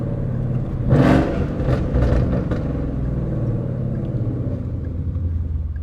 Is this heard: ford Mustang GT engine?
yes